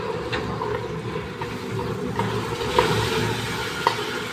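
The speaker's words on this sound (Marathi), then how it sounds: "मी आता हे तांदूळ टाकते फोडणीमध्ये" Washed rice hisses softly in hot oil tempering, a steady low sizzle with a couple of light clinks from a utensil.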